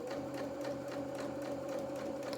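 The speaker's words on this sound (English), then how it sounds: "I'm just going to sew on this edge here" A sewing machine stitches along a fabric edge at the top back of a doll-sized pinafore skirt, a quiet, steady rapid whirring with a regular pulsing rhythm throughout.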